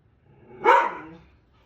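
A dog gives a single sharp bark, loud and close, in an otherwise quiet indoor space.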